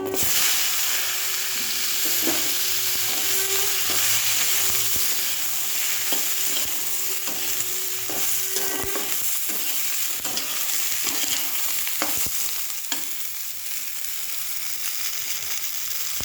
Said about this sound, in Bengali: আমি এবারে শিমটা ঢেলে দেবো।